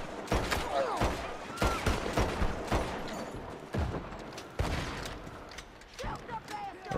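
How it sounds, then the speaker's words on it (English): Gunfire in Red Dead Redemption 2 rings out as a steady series of loud, sharp shots, close and repeated every half second or so. A voice talks intermittently beneath the fusillade. "somebody's shooting us the fuck up"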